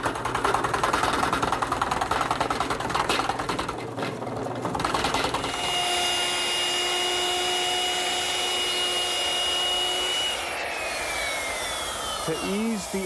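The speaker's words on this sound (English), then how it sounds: "I'm using a 2-inch Forstner bit to make a decorative cut on the end" Drill press boring a decorative end cut with a 2-inch Forstner bit: a loud, steady mechanical whir and grinding, then a smoother motor hum with a high whine as it winds down.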